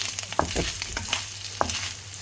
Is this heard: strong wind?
no